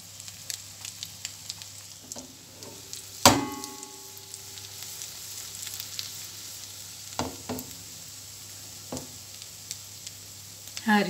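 Potato fritter cooking slowly in a pan over low heat with a soft, even sizzle, broken by a sharp utensil clank and a few lighter knocks against the pan.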